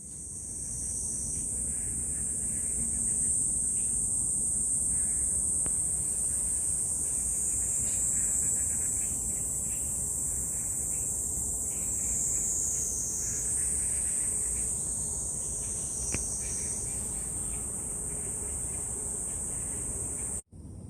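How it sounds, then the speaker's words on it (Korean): A loud, continuous high-pitched drone of a large brown cicada, steady and buzzing throughout, with a sudden brief dropout near the end. "저거는 말매미 소리 같아요."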